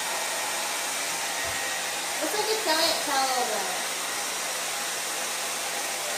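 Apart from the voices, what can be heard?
hair dryer blowing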